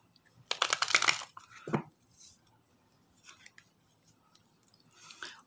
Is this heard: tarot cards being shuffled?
yes